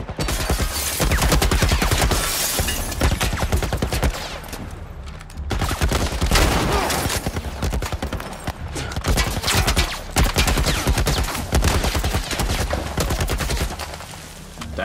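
Dense, continuous gunfire in The Last of Us, rapid overlapping shots running almost nonstop at close range with a brief lull around the middle before the barrage picks up again.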